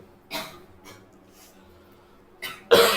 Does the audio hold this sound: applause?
no